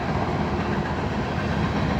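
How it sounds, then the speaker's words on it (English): A CSX freight train carrying Tropicana cars rolls past close by, a dense, continuous roar of wheels and rail noise filling the whole stretch. "Tropicana CSX train."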